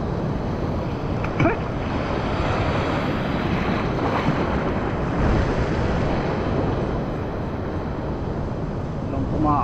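Strong waves break on a Philippine shore at a casting spot, a steady washing roar mixed with wind buffeting the microphone.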